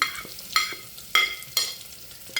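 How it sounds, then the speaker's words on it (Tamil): Onions and curry leaves sautéing in a pan for a chicken curry, a spoon scraping and stirring in four sharp strokes over a soft frying sizzle, close and fairly loud. "கருவேப்பிலை, ரம்பையில் எல்லாத்தையும் போட்டு நல்லா வதங்க விடணும்."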